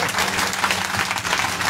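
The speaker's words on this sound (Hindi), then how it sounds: "इनके लिए भी जोरदार ताली बजाओ जोर से" Audience applause at a Bhagwat katha religious gathering in Greater Noida, a dense, steady clapping that fills the whole short stretch at an even level, with no talk over it.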